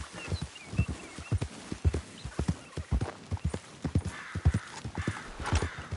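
Steady clip-clop of horse hooves walking at an even pace in Red Dead Redemption 2, close and fairly loud, with a faint snort or whinny toward the end.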